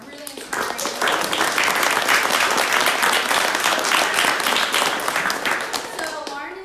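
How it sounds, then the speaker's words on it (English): An audience at a Package Free event gives a sustained round of applause, dense clapping swelling quickly and holding steady before tapering off at the end, with a voice coming in as it fades. "Round of applause for these two."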